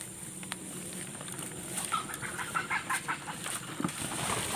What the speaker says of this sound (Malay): Banyak ayam hutan guys.